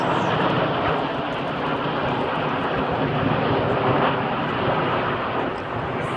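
Aerobatic display jets fly in formation at the Farnborough International Air Show 2014, a loud, continuous engine roar that fills the whole stretch without pause or letup.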